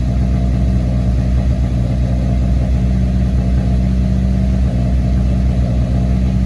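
Audi A5 engine idling steadily with the hood open, held below 2,000 RPM: a loud, continuous low rumble with even mid-range hum, close by and unbroken, with no voices.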